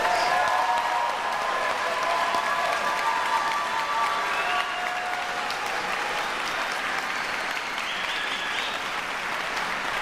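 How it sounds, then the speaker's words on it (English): Sustained applause from a large convocation crowd for Doctor of Musical Arts graduates at the Bienen School of Music, an even wash of clapping that holds steady and eases slightly toward the end. "One more round of applause for all of our Doctor of Musical Arts graduates"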